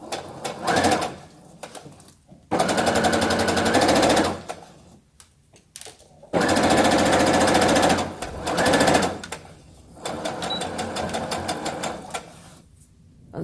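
Sewing machine stitching a godet into a garment, running in several long close bursts separated by short pauses, steady and loud with no talk over it.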